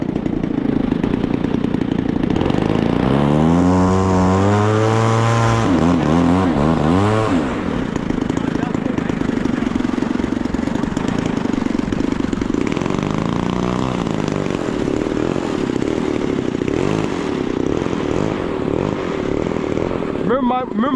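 A small glow engine on an RC P-47 Razorback warbird model starts up automatically, sputtering and rising in pitch before settling into a loud, steady buzzing run close by, with a voice talking over it.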